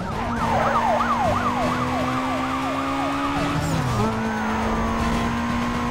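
Police sirens wail in the Need for Speed Most Wanted video game, several warbling sirens layered over a racing car engine, loud and close, one siren dropping in pitch as it passes.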